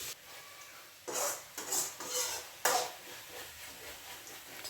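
Utensils clink and scrape against a pot as food is stirred and mixed, in a few distinct bursts of scraping and clatter with quieter pauses between them, close by and moderately loud.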